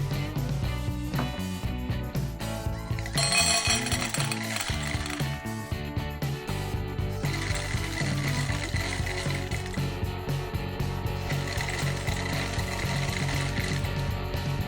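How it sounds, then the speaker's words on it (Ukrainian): An automatic cat feeder run by home automation whirs and clicks as it dispenses dry kibble in portions, a steady close mechanical grinding with ratcheting ticks. "Корм видається порційно."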